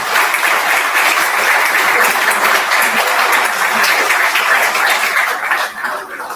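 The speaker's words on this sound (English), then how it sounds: "Give yourselves a round of applause." An audience at a celebration-of-life gathering claps in a warm, steady round, dense and even throughout, then tapers slightly at the close.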